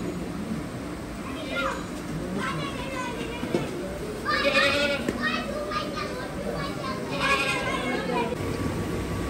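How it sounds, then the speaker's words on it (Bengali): Fat-tailed dumba sheep bleat in a farm shed, several wavering calls rising over a busy background of people talking nearby. "দুম্বার শেড"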